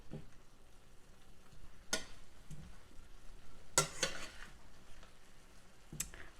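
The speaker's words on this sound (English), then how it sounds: "quick stir. Make sure the carrots are completely coated with the sauce." Carrots get stirred into sauce in a frying pan: a soft, steady sizzle broken by a few sharp scrapes and clinks of a utensil against the pan.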